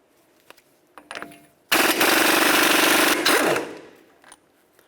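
Impact wrench or power tool spinning off the axle nut on a 2007-2011 Toyota Camry with a 12.30mm socket, a loud continuous rattling burst of about two seconds after a few faint clicks, then trailing off.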